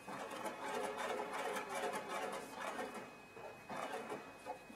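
A sewing machine runs a straight outline quilting stitch through a quilt. Its fast, steady mechanical whir and rattle stays fairly quiet, eases off briefly, then picks back up.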